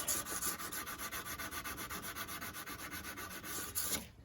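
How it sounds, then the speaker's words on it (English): Steady rhythmic sanding strokes on a handmade rifleman's knife, buffing out file marks after filing; close, even rubbing at a regular pace for several seconds, then stopping abruptly. "gently buff out any places you've got carried away with that file"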